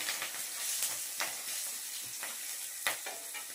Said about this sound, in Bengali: তো ফোড়নটাকে একটুখানি ভালো করে নেড়ে চেড়ে নিই